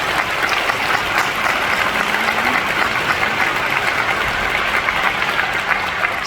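Sustained, dense applause fills a conference hall at a medical event, loud and continuous throughout, with no speech over it.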